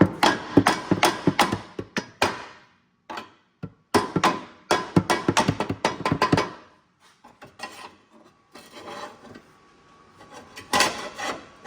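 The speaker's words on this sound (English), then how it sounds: "So get your hammer and try it." A hammer strikes metal hard in quick runs of sharp, ringing blows, then pauses and resumes with sparser hits, while removing the manual transmission from a 2011 Ford Crown Victoria. Close by, no talking.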